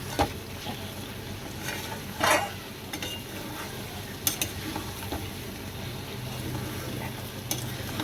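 Potatoes and elephant foot yam sizzle and fry with spices in a pan. A steady crackle continues throughout, broken by a few scraping stirs and clinks of the spoon against the pan.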